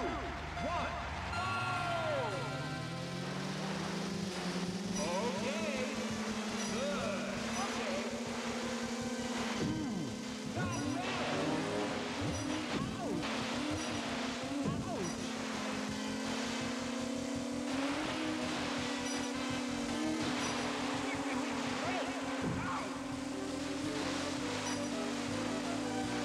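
Jet ski engines race through a Wave Race 64 course at Sunset Bay, a steady loud buzzing drone that rises in pitch and holds high for the whole stretch, with splashing, game music and occasional voices layered over it.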